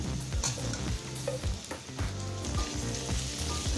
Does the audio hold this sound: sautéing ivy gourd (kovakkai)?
yes